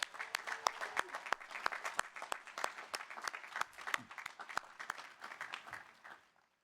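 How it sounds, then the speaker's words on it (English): A large audience claps at a law school Class Day graduation ceremony, sustained crisp applause filling the hall and tapering off toward the end, with a few faint voices mixed in. "Let's give them all a big round of applause."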